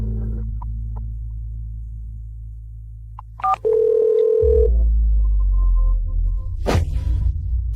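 A steady telephone tone hums alone after a call is hung up, broken by a couple of brief clicks and a short higher beep partway through, then it resumes loud and continuous with a sharp click near the end.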